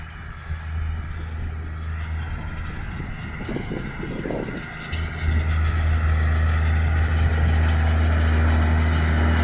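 A Case IH Maxxum 125 tractor runs in a hay field during mowing and tedding, a steady low engine drone heard from a distance that grows slightly louder and fuller partway through.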